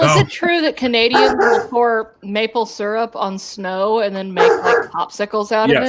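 A dog barks off and on in the background of a casual indoor conversation, the yips and barks partly masked by steady overlapping talk and laughter.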